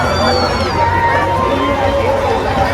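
Dense crowd hubbub at the Mhasa fair on a Sunday, a steady wash of many overlapping voices and chatter filling the space, loud and continuous with no single voice standing out.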